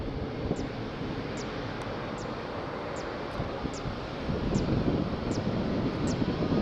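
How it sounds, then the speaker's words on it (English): A Jet2 airliner from London Stansted lands at Faro Airport as a steady, breathy roar mixed with wind noise that swells louder toward the end, with no voices. "London Stansted about to land at Jet 2."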